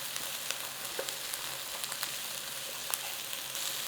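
Potato pieces fry in a pan for a creamy garlic soup, giving a steady close sizzle and crackle with small pops scattered through, without any talk.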